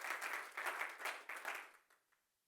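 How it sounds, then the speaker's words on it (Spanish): Church congregation clapping during a Sunday service, a short burst of applause in pulsing waves that tapers off and dies away after about two seconds. "¿Cuántos le damos un aplauso al Señor?"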